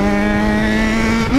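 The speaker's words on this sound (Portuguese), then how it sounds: "Essa é minha moto" A Yamaha XJ6 motorcycle engine runs loud and close in a steady high-pitched rev, rising slightly at the very end, with no voices over it.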